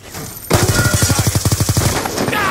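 Rapid automatic gunfire in Call of Duty rattles out in a fast burst of about fifteen evenly spaced shots, loud and close, followed by a brief trailing tail.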